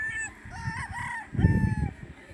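A bulik rooster on a farm crows once, close and loud, its drawn-out call sweeping through several rising and falling notes before a burst of clucking and rustling near the end.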